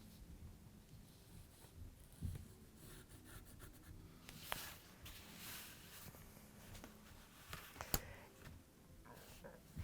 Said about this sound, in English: Draw a line from the center of the dart at the side seam to your bust point.